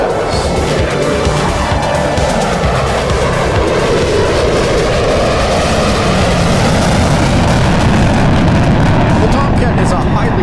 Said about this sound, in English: From the right, the Tomcat knife edge wing sweep pass.